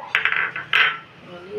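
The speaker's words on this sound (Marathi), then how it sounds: "याच्यामध्ये आपण लसूण आणि हिरवी मिरची टाकणार आहे" Pieces of garlic and green chilli drop into a metal mixer jar, giving a few close, bright clinking taps in quick succession followed by a louder clatter, with no talking.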